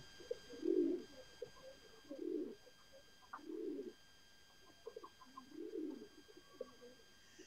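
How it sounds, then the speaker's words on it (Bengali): Pigeons in a loft coo after a hen is let in among them, giving four or five soft, low, rolling coo phrases spaced a second or so apart, with no talking. "সবাই কেমন ডাকতেছে"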